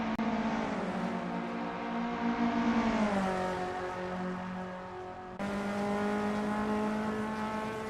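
VW Up Cup race cars on a track hold a steady, loud engine drone with a rising whine as they accelerate, then shift gear and carry on at high revs.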